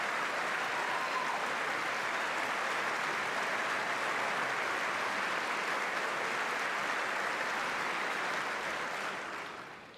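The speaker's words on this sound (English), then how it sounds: "Applause line." A large crowd at a State of the Union address breaks into sustained applause, a dense, loud and continuous clapping that fills the hall and tapers slightly at the end.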